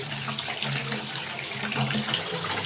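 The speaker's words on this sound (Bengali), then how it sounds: "ভালো করে ধুয়ে নিব এখন ঠান্ডা পানি দিয়ে।" Cold tap water runs steadily over freshly boiled noodles being rinsed in a kitchen sink, a close, continuous splashing stream with no talking.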